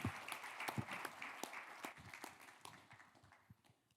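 A lecture audience applauds a keynote speaker at a future-themed conference in Seoul, the scattered hand claps sounding fairly distant and faint and fading out over a few seconds.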